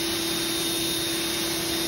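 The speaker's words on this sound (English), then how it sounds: "With this pressure washer being only 1600 PSI, we can also do like the wood and the brick and the windows" A 1600 PSI electric pressure washer sprays steadily at close range, a constant hissing rush with a fixed motor whine underneath, no pauses and no voices.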